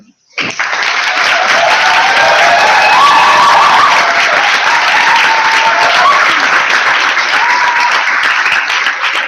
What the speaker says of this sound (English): I want everybody to one clap for our 2 candidates